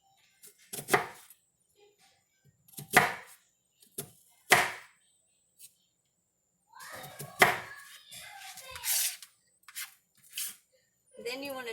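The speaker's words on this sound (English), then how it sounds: "Now you want to do slits across, all the way across, however thin or small you want them." A knife scores slits across an onion on a cutting board, making several distinct close chops spaced a second or two apart, with a voice speaking between cuts.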